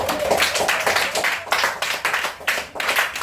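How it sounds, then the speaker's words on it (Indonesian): Audience clapping for a group in a classroom, a brisk close burst of many hands that continues for a few seconds with an uneven rhythm. "Tepuk tangan untuk kelompok 1."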